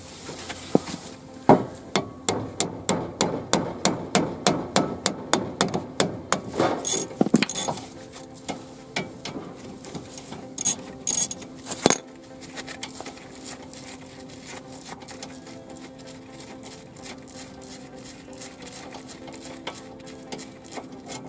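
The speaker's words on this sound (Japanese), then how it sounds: "14mm のラチェットレンチ、緩めていきます" A 14mm ratchet wrench clicks rapidly in a long run of close, rhythmic ratcheting as it loosens a front brake caliper bolt on a Daihatsu Copen L880K, followed by fainter scattered clicks and clanks of tools.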